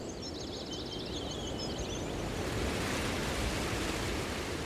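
Waterfall rushing water, a dense continuous roar filling the whole clip, with brief chirping tones near the start and no talking.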